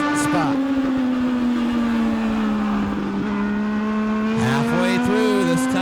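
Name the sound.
Legends race cars racing on a track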